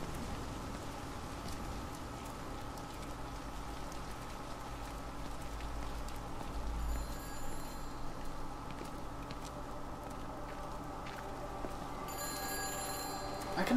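A telephone rings somewhere out of reach in the video game Everybody's Gone to the Rapture. The faint, repeated bell sits over a soft rain-like ambience, with no talk.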